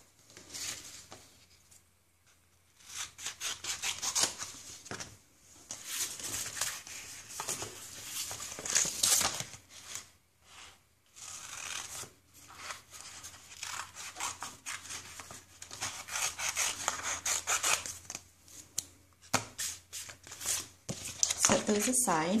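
Scissors cutting vinyl pieces for a Valentine's mug craft, close and quiet, with repeated short snips and crinkling rustles of the material, spaced irregularly through the stretch with occasional softer pauses.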